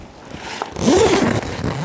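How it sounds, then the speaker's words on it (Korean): A zipper is drawn along the seam of a lightweight 14 kg air tent, a single close scraping zip of about a second rising out of quiet outdoor ambience. "이쪽도 마찬가지로 똑같이 이제 지퍼를 껴가지고"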